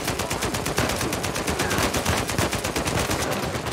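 Rapid automatic gunfire from a weapon in Uncharted 4, a fast, even stream of loud, close shots running without a break and with no talk over it.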